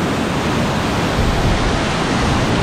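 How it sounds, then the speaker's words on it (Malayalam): Powerful water plunges down Karakkund waterfall in Kerala, giving an unbroken, dense roar heard close and loud throughout. "നല്ല കിടിലം പോലെ ശക്തിയിൽ വരുന്ന വെള്ളം"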